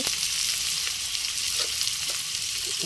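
Continuous crackling hiss of onions frying in oil, close and fairly loud, with no talking.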